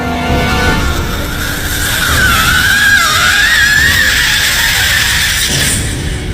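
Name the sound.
frightening scream of a female ghost figure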